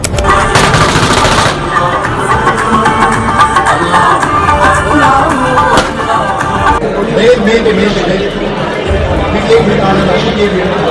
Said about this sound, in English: an unidentified gunman opened fire at a rally, hitting his foot